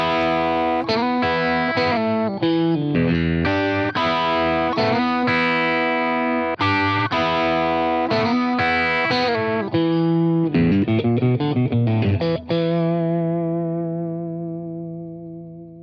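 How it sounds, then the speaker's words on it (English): Mildly overdriven electric guitar played through amp modelling, with touch-sensitive country and blues tones: a loud run of picked notes and chords, ending in a sustained chord that rings out and fades. "There's a whole range of just mildly overdriven tones, very touch-sensitive tones, used by country players and blues players"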